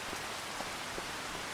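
Steady rain falls in the video game Farming Simulator 25, a dense even patter of drops on surfaces, constant and fairly close, with no talking.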